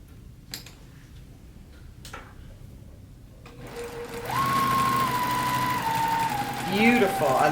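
A JUKI TL series sewing machine stitching a seam starts up partway through, a steady close mechanical whir after a few quiet ticks and clicks, with a brief rise near the end.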